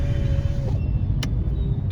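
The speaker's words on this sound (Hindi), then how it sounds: "अब मैंने शीशे अप कर दिए हैं इसके" The power windows of a Renault Triber whine briefly as they close in traffic, then stop. A steady low rumble of engine and road noise continues throughout, with a short sharp click near the middle.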